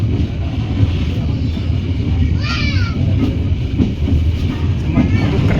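A KA 375 Commuter Line Bandung Raya train, pulled by a long-hood locomotive, rolls along the rails with a steady low rumble and faint wheel squeals. A voice talks over it throughout.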